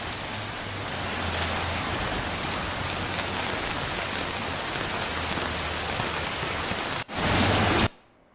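Heavy monsoon rain at Chorla Ghat pours down in a dense, steady hiss, close and loud, with a brief gap before a final surge and sudden stop.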